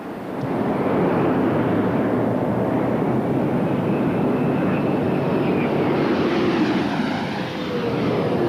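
Space shuttle Discovery touching down and rolling out on runway 33 at the end of mission STS-95: a loud, steady roar of rushing air and rumble that holds for several seconds, with no talk over it.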